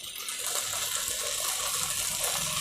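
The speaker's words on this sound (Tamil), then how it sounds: "நான் இதை வந்து பாலும் விட போகிறேன்." Milk poured into a pot while cooking a lunch-box dish, a steady liquid splashing and gushing that runs continuously and fairly close, with no talking over it.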